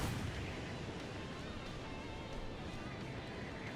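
Agents fire shotguns in the video game Squirrel with a Gun, producing a dense, continuous barrage of loud blasts and booms that stays steady throughout, with no speech.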